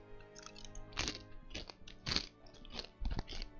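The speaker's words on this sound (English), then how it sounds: "If the chips are too crunchy and loud, let me know, and I can bag them." Crunchy chips being eaten close to the mic, with several distinct loud crunching bites at irregular intervals and softer chewing between, no talk.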